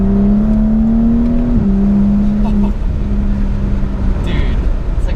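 A turbocharged, tuned 2011 BMW 135i accelerating from inside the cabin, a loud droning engine tone rising then dropping at a shift, with people talking over it.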